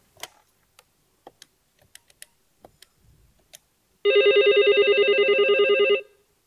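A Flyingvoice IP phone rings for a test call after a few faint clicks and taps, its electronic ring a steady pulsing warble lasting about two seconds, loud and close with no talking.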